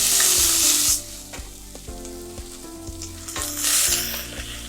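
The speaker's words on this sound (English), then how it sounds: "let's add the rice and keep sauteing it." Rice and vegetables sauté in a hot pan for risotto, a loud, bright sizzle with repeated rhythmic scraping and stirring knocks, the hiss dipping and surging again as the pan is worked.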